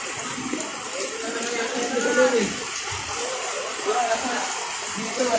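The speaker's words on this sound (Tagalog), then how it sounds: "makikita nyo sa video na ito ay tangay-tangay ng agos baha" Floodwater current rushing through a Valenzuela street during typhoon flooding, carrying floating sacks of junk-shop scrap and trash; a steady, close watery rush with a person talking over it.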